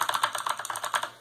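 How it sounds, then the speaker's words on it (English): Rapid, steady typing on a mechanical keyboard with Cherry MX Blue clone switches, a close run of crisp, clicky keystrokes heard alone. "This keyboard is using Cherry MX Blue knockoffs, basically."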